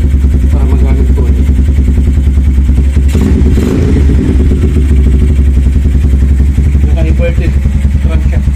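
An enduro motorcycle with a loud exhaust running and revving nearby, a steady, dense, throbbing engine drone with a short surge in the middle, while someone talks over it.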